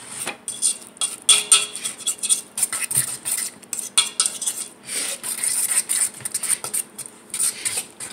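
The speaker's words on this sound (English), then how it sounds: "I want to make sure all the lumps and the cornmeal is stirred thoroughly" A spoon stirs a cornmeal mixture in a metal pot, rapid rhythmic scraping and clinking against the sides, close and fairly loud with uneven bursts and brief pauses.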